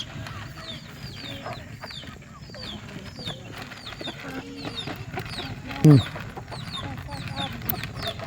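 Chickens cluck repeatedly nearby at a moderate level, with people talking intermittently over them and a brief loud knock partway through.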